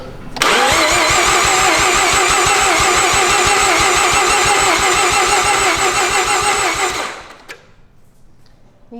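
A Mazda RX-7 FC3S rotary engine cranks loudly and steadily for about seven seconds with a fast, even starter rhythm, failing to catch before cutting off to quiet.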